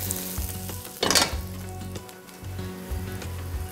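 Potatoes crisping in a pan during a roast chicken dinner, giving a steady close sizzle and frying crackle with a louder burst of spitting partway through.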